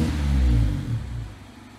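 Mazda MX-5 Miata ND2 with a Cobalt axle-back exhaust, engine blipped up toward about 3,000 rpm: a deep, loud idle-to-rev swell that builds for under a second, then settles back into a low steady rumble, heard close with no talk.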